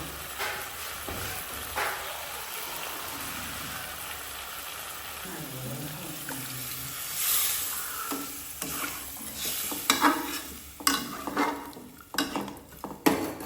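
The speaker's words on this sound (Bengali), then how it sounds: "এখন এখানে ঝোল দিয়ে দিব।" Ritha fish curry sizzles and bubbles in a pan as broth goes in, with a soft hiss building into louder stirring, clinks and scrapes of a utensil against the pot toward the end.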